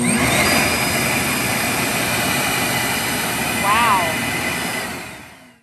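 A steady, loud motor whine of a DeWalt DXV06G cordless shop vacuum running continuously, with a brief rising tonal chirp midway as its remote pairs, before the noise winds down at the end.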